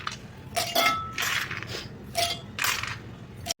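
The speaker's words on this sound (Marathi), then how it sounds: "थोडं थोडं करून शेंगदाणे टाकूया त्यात." Peanuts dropped a little at a time into a steel mixer jar, making several bright metallic clangs and rattles in quick irregular bursts, close and fairly loud.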